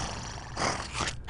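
A Zolpup creature in the video game Sword of the Stars: The Pit lets out a short, rough growl, close and fairly loud, rising and fading in about a second.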